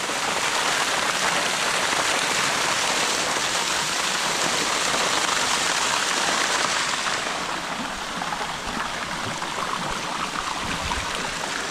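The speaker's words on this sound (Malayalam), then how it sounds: "വെള്ളം നിറഞ്ഞുകൊണ്ടിരിക്കുന്നേ ഉള്ളൂ" Water pours steadily into a deep pool at a site in Oman, a loud, even hiss of flow that continues throughout with no voices.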